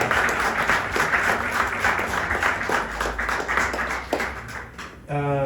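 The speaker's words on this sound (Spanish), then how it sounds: "Dale un fuerte aplauso al Señor." A church congregation breaks into loud, sustained applause for about five seconds, a dense wash of clapping that cuts off abruptly near the end, when a voice begins to speak.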